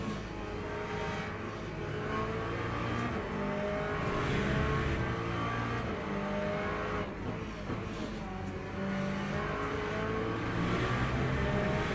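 A racing car engine drones loudly and steadily at Monza in a racing video game, with constant high revs and slight pitch shifts through the whole stretch and no speech over it.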